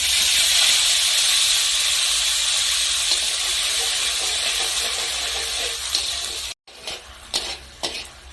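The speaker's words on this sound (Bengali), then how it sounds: "এখন আমি জল দিয়ে গুলে রাখা হিং দিয়ে দিচ্ছি।" Asafoetida dissolved in water hits hot frying spices for a no-onion, no-garlic mutton dish, setting off a loud steady sizzling hiss that fades, then breaks into short bursts of crackle and stirring.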